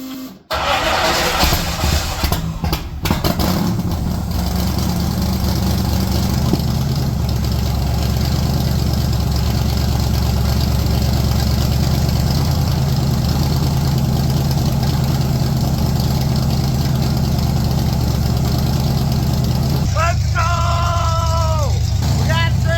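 A 1965 Ford Mustang V8 cranks briefly and catches, then settles into a loud, steady, lumpy idle close by, with a short burst of squealing near the end.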